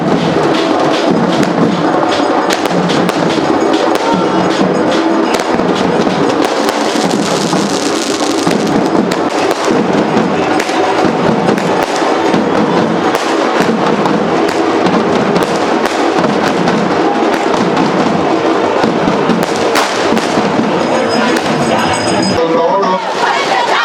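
Firecrackers burst repeatedly during a Ganesh idol immersion procession in a village near Chikkaballapur, loud, rapid popping and crackling in steady pulsing waves over a murmuring crowd.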